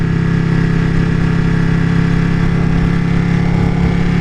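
A Ducati Panigale motorcycle engine drones at a steady, loud, constant pitch, close by and without talk.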